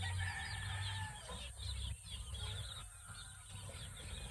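Off-season gamefowl roosters crowing and clucking in repeated overlapping calls, fairly faint, with busy bird chatter around them.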